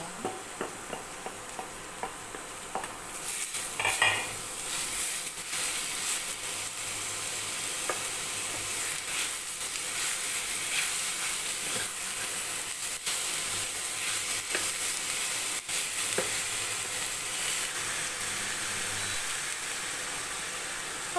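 Meat tossed into a hot pan with carrots sizzles and hisses steadily, broken by scraping stir strokes, a close, continuous frying sound with no talking.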